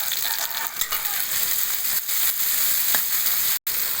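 Rice stir-fried with garlic, coriander root and ginger sizzles steadily in a hot pan, a dense continuous frying hiss with faint scraping stirs, close and loud throughout.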